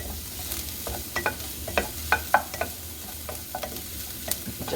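Finely chopped fresh garlic frying in a pan, a soft steady sizzle under repeated scraping, clinking stirs of a utensil against the pan, close and fairly quiet with no talk.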